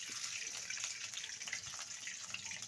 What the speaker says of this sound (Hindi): कढ़ाई मैंने गरम कर ली है। अब इसमें तेल डालती हूँ।